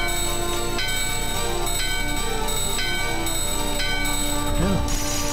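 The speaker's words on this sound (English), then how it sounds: "Yep, use a bell." Bell chimes in Final Fantasy IX on PC, several clear rings spaced across the clip over a steady background of game music.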